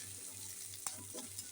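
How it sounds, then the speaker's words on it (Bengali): Onions frying in oil, a soft steady sizzle with a single sharp stirring clink midway, quiet and close with no talking. "পেঁয়াজটাও লাল লাল করে একটু ভাজা হতে থাক"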